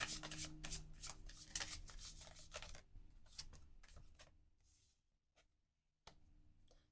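Tarot cards being shuffled up close in dense riffling bursts for about three seconds, then sparser flicks and taps that fade toward near silence before one last shuffle.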